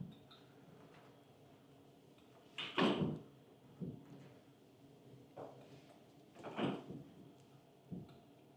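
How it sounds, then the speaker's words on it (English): A pocket door in a modern Colorado home's laundry room slides and knocks, giving several separate bumps and rattles at moderate loudness with quiet gaps between them. "This looks like a pocket door."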